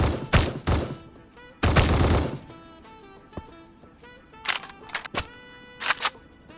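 An AK-47 in a multiplayer first-person shooter game fires several short, sharp bursts, each crack ending in a ringing tail. The shots come in uneven groups with quiet gaps between them.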